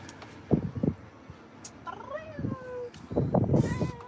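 A Russian Blue cat gives a drawn-out, rising-and-falling meow in the middle, close and clear, surrounded by short bursts of nearby human talk before and after.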